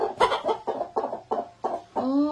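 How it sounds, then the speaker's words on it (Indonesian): A village yard chicken clucks loudly and close in a run of about eight evenly spaced clucks, ending in a longer drawn-out cackle, with no speech. "Nih karena si ayamnya ini nangkring terus di sini."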